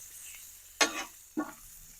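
Homemade pork fat (salo) crackles softly in a frying pan, with a faint steady sizzle broken by two brief louder pops or stirring scrapes.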